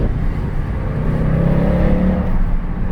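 Mercedes-Benz C63 AMG W204 with its naturally aspirated engine revving, a loud, deep, continuous roar heard close from inside the car that swells slightly midway.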